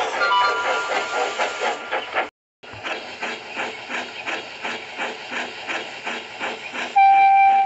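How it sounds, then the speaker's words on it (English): A loud train rumbles along with rhythmic clattering, a short cut of silence midway, and a guard's whistle sounds a steady high tone near the end. "when the guard's whistle blew"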